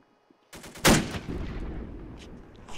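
A single sharp gunshot rings out loud and close in the World War II shooter Invasion 1944, with a short burst of further shots and a rumbling tail fading after it.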